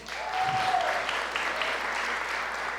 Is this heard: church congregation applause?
yes